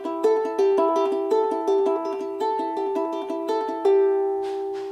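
A ukulele plucked with the fingers playing a song intro on open strings, a quick repeating pattern of bright picked notes in steady rhythm, close and clear, ending on a ringing note with no talking.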